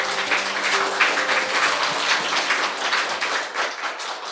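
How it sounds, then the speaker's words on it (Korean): Applause from the audience at a book concert: a dense, steady wash of many hands clapping together, sustained and fairly loud throughout without speech. "박수 주시죠."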